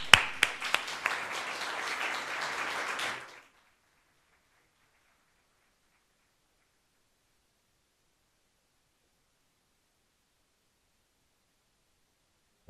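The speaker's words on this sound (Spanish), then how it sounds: "Recibamos con un gran aplauso." Audience applause at a Spanish seminar on legal security for seniors, a dense burst of clapping lasting about three seconds and then cutting off into silence.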